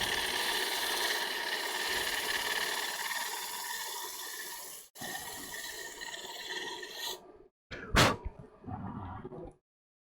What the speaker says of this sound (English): Take my sanding block.